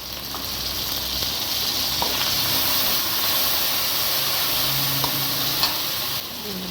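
Chili paste frying in hot oil in a wok, a dense, even hissing sizzle that holds steady with a few soft ticks before dropping slightly near the end.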